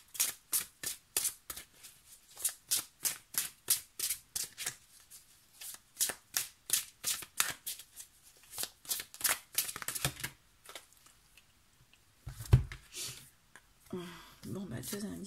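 Tarot cards being shuffled in a long run of quick, crisp riffling bursts, close and steady, fading into scattered handling and soft rustling near the end.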